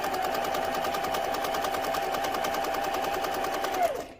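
A sewing machine runs fast and steady while chain piecing quilting fabric, a close, even mechanical whir with rapid needle clatter that slows and stops at the end.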